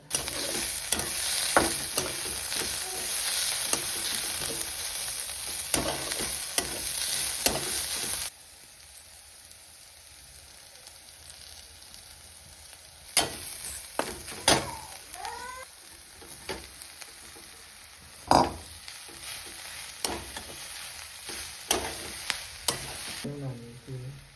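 Khurasani vegetable frying in a pan is stirred with a utensil, bringing repeated scraping clinks over a steady sizzle that drops quieter for a stretch before rising again.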